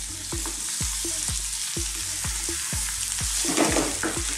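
Potatoes fry in a pan for an Indian cabbage and potato dry fry, with a loud, steady sizzle and a few soft regular scrapes from stirring.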